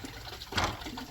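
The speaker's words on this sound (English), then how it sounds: "So we're just gonna basically let that flush out." Liquid rushes and gurgles as it is back-flushed through the oil cooler of a Powerstroke 6.0 diesel engine, a short steady wash of fluid that swells briefly mid-way.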